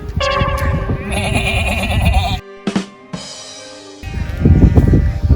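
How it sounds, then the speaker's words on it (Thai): Sheep and goats bleating in a free-range flock of black and white sheep on a grassy Kashmir meadow, loud overlapping calls from several animals nearby, one after another with short pauses. "ทุ่งหญ้า คล้ายๆแบบ ฟาร์มแกะ แต่เป็นเลี้ยงแบบปล่อย มีทั้งแกะดำแกะขาว"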